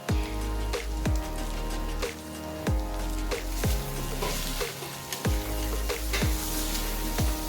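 Green chillies fry with chicken in a pan, a constant close sizzle cut by repeated sharp knocks and scrapes of stirring at a fairly regular pace, with no talking.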